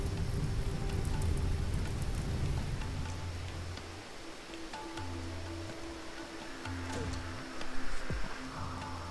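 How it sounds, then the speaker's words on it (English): Rain falling in the video game RimWorld, a soft steady hiss under repeating low game tones and faint intermittent clicks, with no talking. "Ah, damn, it's raining."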